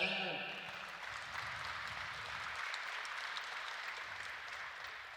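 Applause from the crowd at the final of an archery tournament, the Lancaster Archery Classic, comes in as a fairly faint, steady patter of clapping that starts just after a burst of talk and continues alone.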